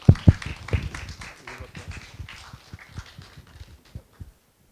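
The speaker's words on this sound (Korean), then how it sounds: "큰 박수로 강민용 교수님을 모셔보겠습니다" Applause from a Korean public science lecture audience welcoming a professor, with a few loud thumping claps up close at the start, then softer scattered clapping that tapers off and stops.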